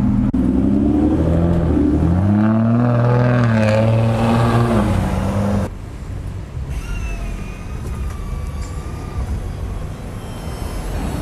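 An Aston Martin Rapide engine fires up and revs loudly with rising, falling pitch, then settles into a lower steady rumble with a faint whine.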